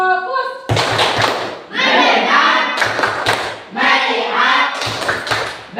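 A classroom group claps out a rhythmic cheer in bursts, with shouted voices and hand claps mixed together, while a teacher leads.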